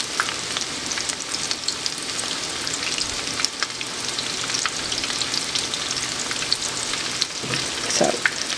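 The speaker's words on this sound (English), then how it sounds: "So we're going to let these fry until they're golden brown" Small chicken tenders fry in hot oil, giving a steady, close, dense sizzle and crackle with occasional sharper pops, continuous and alone without talk.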